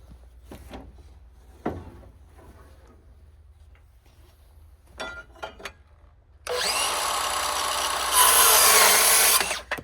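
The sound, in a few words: saw cutting wood framing lumber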